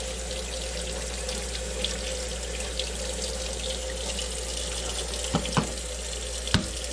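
A kitchen water tap runs in a steady, even stream into a sink while eggs are rinsed under it, with a few faint knocks near the end.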